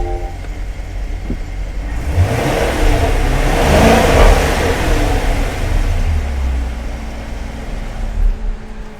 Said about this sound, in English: I'm gonna drop it into sports mode and give it a rev so you guys can hear how that